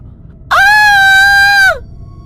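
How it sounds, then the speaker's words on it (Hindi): A woman in an animated Hindi horror story lets out a single loud, piercing, sustained scream lasting about a second, sharp onset and falling off at the end, over a quiet low background. "वो जोर से चिल्लाई"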